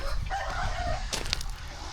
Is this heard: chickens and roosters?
yes